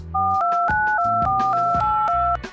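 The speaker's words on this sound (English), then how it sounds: "This is the sound of a telephone communicating." A rapid string of telephone touch-tone beeps, each dual-pitched tone stepping to the next in quick, even rhythm over a faint musical backing.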